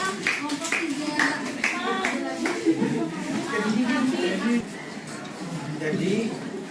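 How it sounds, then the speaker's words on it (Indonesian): A small group of students in a classroom claps briefly for a presenting group, with light scattered clapping mixed with children's chatter and voices. "Beri tepuk tangannya"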